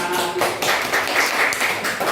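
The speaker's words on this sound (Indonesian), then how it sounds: "tepuk tangan." Children in a classroom at an Islamic teacher-training lesson clap together, a dense, steady patter of hands lasting about two seconds with faint voices mixed in.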